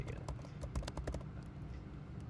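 Computer keyboard typing, an irregular run of quick soft key taps that is busy at first and sparser later, faint over a quiet room hum.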